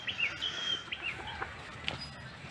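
Chickens cluck and squawk faintly in the background, short scattered calls over a quiet outdoor hiss.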